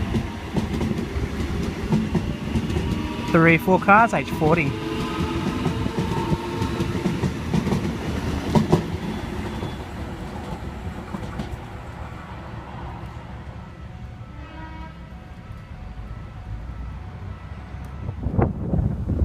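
A Sydney Trains electric train departs Wickham station, its rumble and rhythmic clickety-clack of wheels over rail joints steady and close, with brief squeals and a station announcement voice faintly under the noise.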